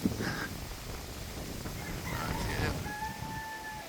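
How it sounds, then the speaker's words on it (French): A rooster crows from some distance in a village on Staniel Cay in the Bahamas. The call rises out of steady outdoor background noise, and voices talk nearby. "On entend le coq."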